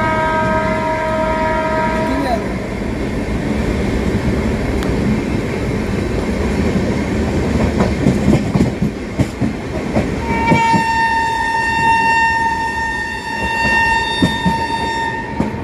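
The Hemkunt Express runs loudly on rails nearby, a continuous rumble with clickety-clack wheel beats, while a long two-tone horn blares at the start and again near the end.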